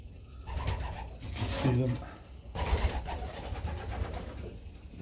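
Baby pigeons coo softly in a loft, a few low, murmuring calls close by, with someone speaking briefly at the start.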